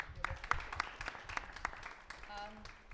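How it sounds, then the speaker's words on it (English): Scattered, fairly faint claps from attendees at a school board of education meeting, a sparse round of applause mixed with talking in the room. "Can we give her a round of applause?"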